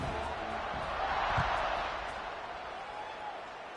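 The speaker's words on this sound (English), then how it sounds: "this crowd is buzzing after that last score" Football stadium crowd buzzing after a touchdown, a broad steady roar of many voices filling the clip, loud and continuous with a slight swell early on and an easing toward the end.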